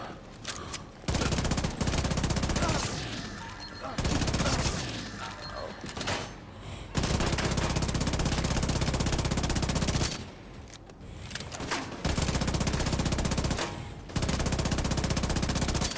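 Enemy turret fire in The Division 2 rattles out as long, loud, sustained automatic bursts separated by short gaps.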